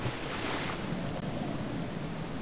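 Rushing water and a waterfall in the Indiana Jones and the Infernal Machine video game, a steady, dense roar like surf or wind that keeps going without pause, with no voices over it.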